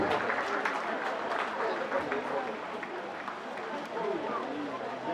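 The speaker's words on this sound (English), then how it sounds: "A big round of applause for the rector" A crowd applauds the rector at a university World Labour Day celebration, a busy, sustained patter of many hands with scattered sharper claps near the front and a murmur of voices mixed in, steady throughout.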